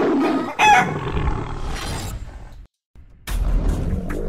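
A rooster crows loudly up close, mixed with clucking hens, then a short silence before more clucking and crowing resumes.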